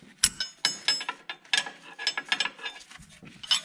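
Wrench turning a ball joint nut on a Toyota Corolla, a close series of irregular metallic clicks and scraping ratchet-like strokes with short pauses between turns.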